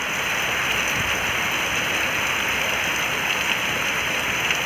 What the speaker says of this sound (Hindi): तूफान तरीके का मूसलाधार बारिश